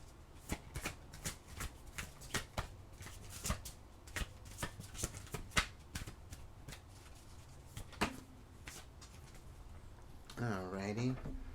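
Oracle cards being shuffled by hand during a tarot-style reading, with a steady run of crisp riffling and slapping card sounds, close up, followed by a brief voice near the end.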